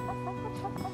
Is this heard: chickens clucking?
yes